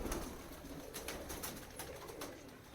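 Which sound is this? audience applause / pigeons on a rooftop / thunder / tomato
pigeons on a rooftop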